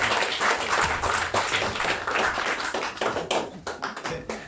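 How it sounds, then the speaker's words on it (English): Dense live audience applause fills a fringe-festival comedy show in a steady roar of many hands clapping, loud and close, with no speech over it. "A big round of applause for our final guest,"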